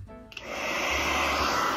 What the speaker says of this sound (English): Okay, now, I got the hair dryer.